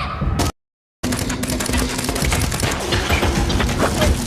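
Gunfire from a film shootout between a man and security guards in a building, heard as dense rapid bursts and crashing impacts, loud and continuous after a short silent gap.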